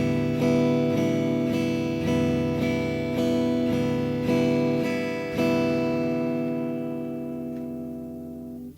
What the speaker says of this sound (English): the 4/4 count strum at 120 beats per minute sounds like this